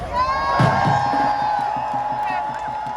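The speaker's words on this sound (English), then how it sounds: "I know it's a large crowd, a lot of excitement" Large street protest crowd cheering and shouting near city hall, a loud burst of voices that swells and then holds as a sustained roar, with rhythmic chanting pulses underneath.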